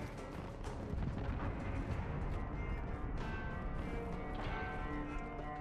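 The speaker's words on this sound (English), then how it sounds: "Allied cruise missile launched." Dense, continuous rumbling booms and blasts from an allied cruise missile strike in Call of Duty Modern Warfare (2019 beta) roll on without a break, loud and layered across the whole stretch with no voices over them.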